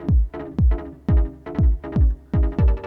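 Punchy house chord stabs through an Echolocator echo effect repeat in a steady rhythm, each hit trailing into a short echo, with no voices.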